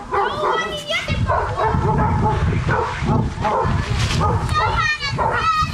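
Several village dogs bark and yip excitedly, with whimpers in between, close and loud, under almost continuous talking.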